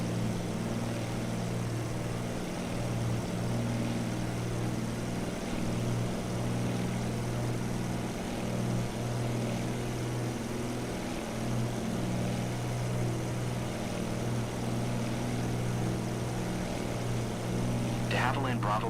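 Steady propeller drone of a De Havilland aircraft engine in Microsoft Flight Simulator, a constant loud hum that runs the whole time with voices talking over it.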